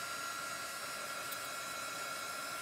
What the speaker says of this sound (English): now all you're gonna do is you're gonna take your hair dryer and you're gonna dry it.